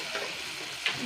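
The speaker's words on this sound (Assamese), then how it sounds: "মই আলুটো কেৰাহীত দি দিছোঁ" Potatoes frying in a wok make a brief, steady close sizzle with a single sharper crackle near the end.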